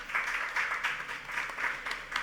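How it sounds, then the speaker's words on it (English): A panel audience claps in a short burst of applause, moderate and fairly close, with pulsing clusters of hand claps that carry on without a break. "Round of applause for Vivian, please."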